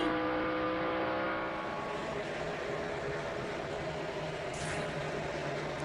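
NASCAR Busch Series race cars at speed around Nashville Superspeedway, a continuous loud engine roar with a shifting whine of cars passing, steady throughout with no voices.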